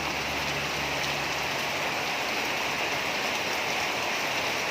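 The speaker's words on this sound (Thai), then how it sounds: "ได้ฝนแล้ว" Steady rain pours down outdoors in a broad, even hiss of many drops striking surfaces, continuous and fairly close for the whole stretch, with no voices.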